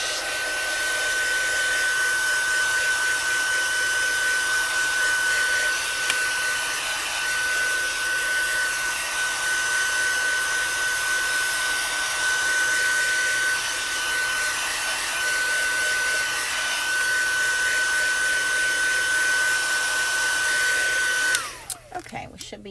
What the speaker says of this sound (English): I'm going to heat set this real quick so my ink doesn't smear.